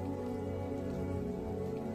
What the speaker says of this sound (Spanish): a escuchar las gotas de lluvia caer